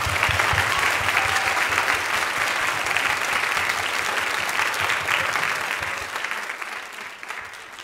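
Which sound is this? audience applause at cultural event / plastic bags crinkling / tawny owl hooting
audience applause at cultural event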